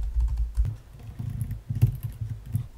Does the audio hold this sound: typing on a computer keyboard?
yes